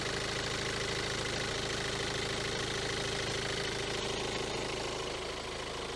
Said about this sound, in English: This engine's still pretty cold.